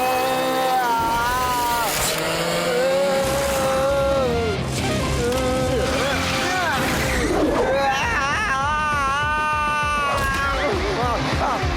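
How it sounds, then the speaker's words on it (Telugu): A go-kart races in a cartoon, its engine a rising and falling whine that swoops in pitch throughout, layered with loud cartoon voices and music. "వేదా సిటీ కుర్రాడు ఎలాంటి కారు తయారు చేసాడో చూసావా?"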